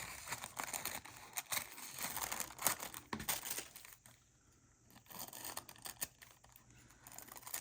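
Paper being cut with scissors while making a Christmas junk journal, giving close, quiet crinkling snips in irregular bursts with a brief lull partway through.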